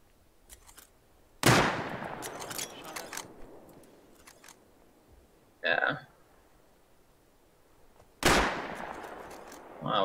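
Gunfire in the survival video game Rust, a loud sharp shot at about 1.5 s, a short burst near 5.7 s and another loud shot near 8.3 s, each trailing off, with quieter game sounds between.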